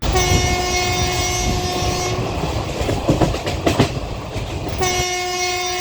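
A loud horn blares from a train out of Howrah, breaks off while the cars rumble and clatter past, then sounds again close by.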